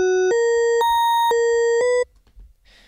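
A Serum-synthesized tone with a metallic, bell-like timbre steps through a short melodic sequence of five sustained notes, then stops abruptly, leaving faint background noise.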